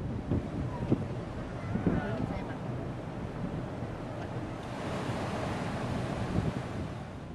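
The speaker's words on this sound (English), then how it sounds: "the strong side winds and waves did not let anyone aboard relax" Rough sea waves surge around a boat while strong side winds roar steadily past the microphone, a continuous heavy rush of water and wind with occasional thumps and splashes.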